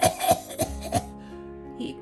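A narrator's voice imitates a cough in a read-aloud Dr. Seuss story, with several quick, harsh coughing bursts close to the microphone followed by a softer trailing breath.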